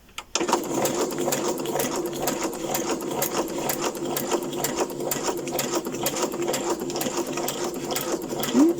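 A sewing machine stitches around the corner of a photo album journal, a close, steady mechanical whir with rapid needle clatter running almost unbroken from start to finish.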